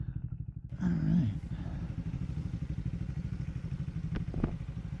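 A 2024 Triumph Speed 400 single-cylinder motorcycle engine idles steadily and up close with an even low thumping pulse, a brief voice near the start and a couple of sharp clicks late on.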